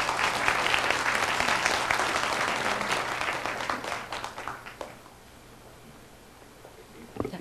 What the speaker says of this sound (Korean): 모두 박수로 조기석 교무처장님을 맞이해 주시기 바랍니다